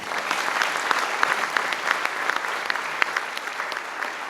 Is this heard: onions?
no